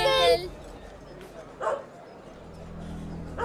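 A dog lets out a couple of short, fairly close yips and barks separated by quiet pauses, set against a low steady hum.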